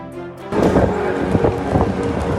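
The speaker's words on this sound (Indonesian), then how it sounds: "Insya Allah ini hujan, tiba-tiba hujan tuh." A sudden storm breaks in Mina after intense heat, with wind gusts and heavy rain hitting in a loud, rushing burst that begins abruptly and stays steady.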